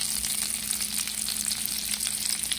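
Artichokes laid into hot oil in a pan sizzle and fry with a steady, dense crackle that holds at an even level throughout, close up with no talking.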